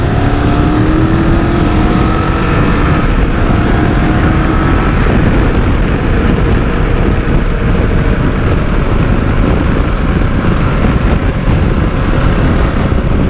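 2024 BMW F900 GS motorcycle engine accelerates on a road ride, its rising drone heavily buried under loud, constant wind rush across the microphone.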